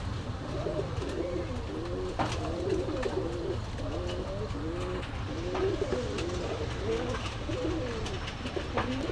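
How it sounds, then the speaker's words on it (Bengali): A pair of Pakistani Kasuri pigeons at a pigeon market in Gollamari, Khulna, coo in repeated soft, rolling phrases close by, over a low steady background rumble. "দর্শক এই এক পেয়ার পাকিস্তানি কাসুরি কবুতর আছে।"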